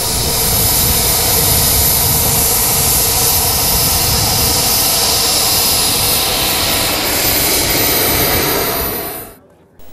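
A model delta-wing jet aircraft with a ducted-fan jet engine flies at a 1998 Florida jet-model event, giving a loud, steady, broadband roar that holds for most of the time, then drops sharply and cuts out at the end.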